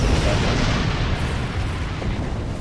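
An enemy ship explodes in the space combat game Star Trek Online, a loud, dense rumbling blast that fills the clip and slowly fades, heard alone without speech.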